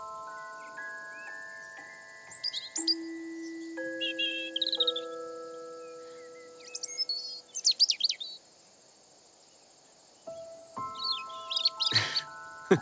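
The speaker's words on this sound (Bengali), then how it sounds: "কিভাবে বুঝলে? শিকারি পাখির শব্দে। শুনতে পাচ্ছ না?" Several birds give high, quick chirping calls in scattered bursts in an open field that looks like a hunting ground, over steady sustained tones, with a short quiet gap before a final burst of calls.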